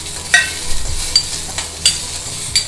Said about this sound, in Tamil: எண்ணெயிலே வந்து கொஞ்சம் புளி பொரியட்டும்.